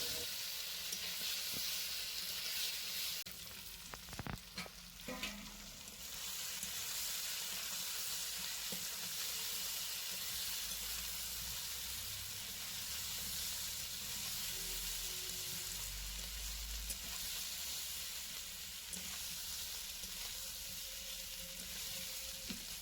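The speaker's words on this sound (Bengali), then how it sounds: "এবারে সব কিছু খুব ভালো করে আরও একটুক্ষণ কষে নেব।" Fried cauliflower and potatoes hiss in a spice paste that has released its oil, a dense, steady sizzle held at an even level with a few spoon scrapes early on, close and without voices.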